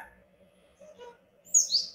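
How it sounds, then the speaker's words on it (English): A pet parrot gives a few short squawks and chirps, the loudest pair bright and close near the end, with a soft low hum underneath. "If you hear those noises, that's my parrot."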